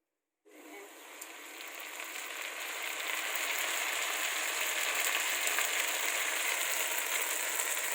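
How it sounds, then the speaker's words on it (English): Noodles, shaped into a round nest by hand, drop into hot oil and fry with a broad, steady sizzle that swells in the first seconds and then holds evenly, close and alone with no talk. "After the oil is hot, we're gonna add noodle."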